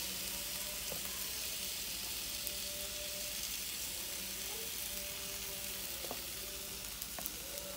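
Chicken frying over high heat, a steady close sizzle and crackle of oil with occasional faint clinks of utensils, continuous and without talk.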